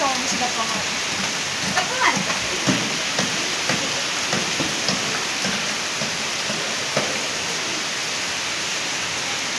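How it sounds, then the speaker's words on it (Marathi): Continuous rain falls in Pune, a steady dense hiss of drops on surfaces with occasional louder splatters, unbroken throughout. "पुण्यामध्ये तर आहे बाबा कंटिन्यू पाऊस चालू"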